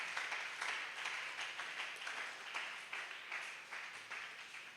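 A church congregation applauding, an even stream of overlapping claps at a moderate distance, steady and unbroken.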